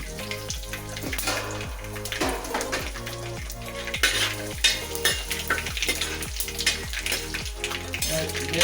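Red chillies and curry leaves crackle and sizzle in hot oil with mustard seeds, a busy, close frying hiss with utensil clinks, heard under rhythmic background music.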